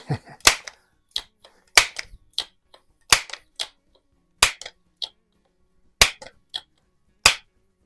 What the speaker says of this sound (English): Shooting both of these just with Crosman Premier hollow points.